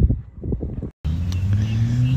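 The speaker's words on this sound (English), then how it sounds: "here comes the first car out on the wet surface" Rallycross Porsche 944 heading out onto a wet track, its engine droning steadily and rising slightly in pitch after a brief cut, fairly close, with some earlier rumbling beforehand.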